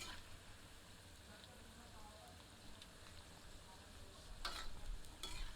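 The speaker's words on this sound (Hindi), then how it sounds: "मध्यम आंच पर इन्हें हल्का सुनहरा होने तक तलते हैं।" Jackfruit pieces fry over medium heat, sizzling and crackling steadily in hot oil, a soft continuous frying hiss with occasional louder spits and a stir near the end.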